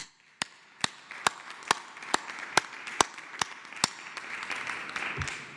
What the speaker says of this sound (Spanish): Un aplauso al pueblo de México.